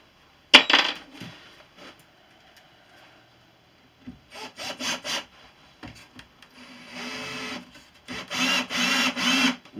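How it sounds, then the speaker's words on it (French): A power drill drives 100 by 5 wood screws into glued, pre-drilled wood, with a sharp knock first, then bursts of whirring and grinding that grow longer and louder toward the end, close up and without talk. "Je vais visser ici pour te montrer."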